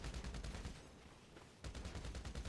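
Rapid automatic gunfire in GTA Online, dense bursts of shots that fill the opening, pause briefly for quieter moments, then resume loud and fast.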